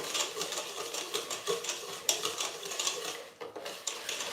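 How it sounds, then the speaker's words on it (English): A whisk beats chocolate cake batter by hand in a bowl, producing quick irregular clicking and scraping strokes with a few sharper knocks, close and moderately loud with no talk. "So I'm going to use just my whisk, right?"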